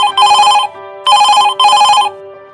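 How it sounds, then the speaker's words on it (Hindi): A landline telephone on a police station desk rings in three loud electronic bursts, each about half a second long with short gaps, clear and close with no talk. "डेस्क पे रखा लैंडलाइन फोन घनघना उठा।"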